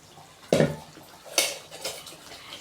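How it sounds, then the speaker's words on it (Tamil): A ladle knocks against a pot of Tamil dried-fish curry (karuvattu kulambu) as it is stirred: a sharp metallic clank followed by a few lighter scraping taps, close and clear, with no talking. "அந்த கரண்டி வச்சு நல்லா கலந்து விட்டுடுங்க"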